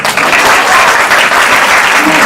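A large audience claps in a dense, sustained burst of applause that stays loud and even throughout, with no talking over it.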